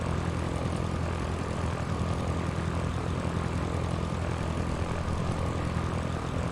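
Steady, continuous drone of a Cessna propeller engine in a flight simulator game (Sierra Pro Pilot 98) during a climb, loud and unbroken throughout with no talk.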